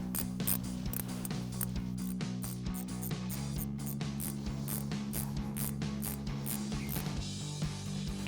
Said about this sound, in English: I'm going to take my 10mm ratcheting wrench and run it in.